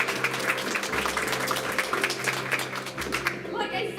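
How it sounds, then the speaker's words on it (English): Applause from the audience at an awards show, a continuous wash of clapping under a talking voice, with a low hum running through the room. "Let's hear a round of applause."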